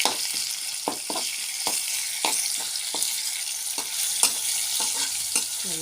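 Curry leaves and garlic fry in hot oil with a bright, steady sizzle, punctuated by frequent sharp taps and scrapes of a spatula stirring the pan, heard close with no talking.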